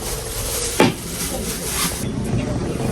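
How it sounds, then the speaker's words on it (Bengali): Taro greens going into a cooking pan: a quick clatter as they drop in, then low sizzling and faint stirring noises, close by. "এবার আমি শাকগুলো দিয়ে দেবো একে একে।"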